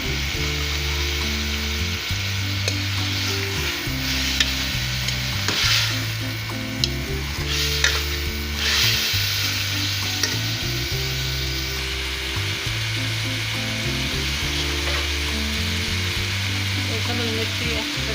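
Sizzling and stirring in a pan of bitter gourd (karela) chicken curry as a cup of tomato paste goes in, a steady frying hiss with scraping utensil sounds running throughout, with a continuous low musical hum underneath.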